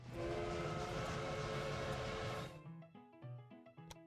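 Locomotives running in the railway management game Railway Empire: a steady loud rumbling train with whistle tones for over two seconds, then it cuts off, leaving scattered short horn and whistle toots, with no talking.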